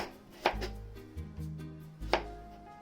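A kitchen knife slices a raw carrot on a cutting board for potato salad, making a few crisp, close chops spaced about a second apart, with quiet pauses between them.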